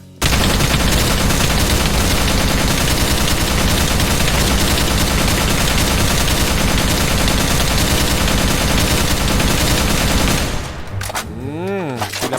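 Sustained, dense gunfire from shooting at a monster in an animated video game, a loud continuous barrage of rapid shots for about ten seconds before it cuts off into quieter effects.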